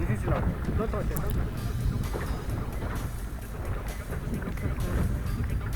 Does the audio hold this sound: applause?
no